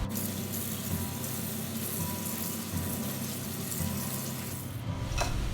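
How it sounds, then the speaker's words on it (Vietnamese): Pickled vegetables are rinsed under running water, a steady hissing stream pouring continuously at close range, with a brief clatter near the end. "Phần dưa này mình sẽ đem xả nước lại nha."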